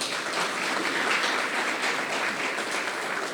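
Steady, dense audience applause for a candidate at a student eloquence tournament evening, even and continuous throughout with no voices on top.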